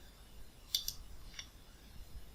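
Windows toggle keys beep sounding as the caps lock key is pressed on a computer keyboard: two faint, quick high beeps close together, then a third fainter one, against quiet room noise.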